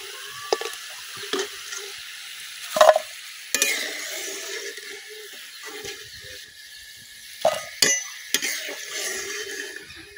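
Murali, finger-shaped dough snacks, frying in hot oil, with a soft continuous sizzle and several sharp scrapes and clatters as a utensil stirs and turns them in the pan.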